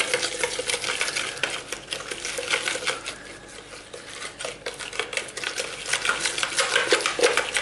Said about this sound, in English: So I'm going to whisk this to get a smooth paste.